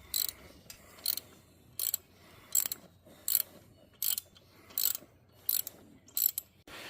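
A Suzuki 300 outboard motor tilts upward on its power trim in a steady series of about ten sharp, evenly spaced mechanical clicks and whirs, close and distinct over a quiet background, with no talking.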